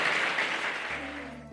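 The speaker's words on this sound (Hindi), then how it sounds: "भाई साहब के लिए एक बार जोरदार तालियां।" A crowd claps for a moment, the applause fading out after about a second.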